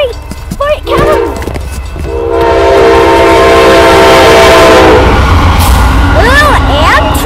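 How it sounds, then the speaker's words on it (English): An Amtrak passenger train passes close by, deep rumbling and rolling louder as it nears, with a long blaring multi-tone horn blast in the middle and a voice calling out near the end. "Ooh, Amtrak!"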